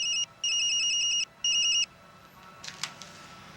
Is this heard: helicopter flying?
no